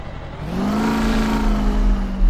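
A Chevy Silverado 3500HD pickup engine in Farming Simulator 2015 revs up and holds a rising, whirring drone, loud and steady, with no talking.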